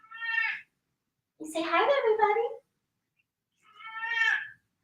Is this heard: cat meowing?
yes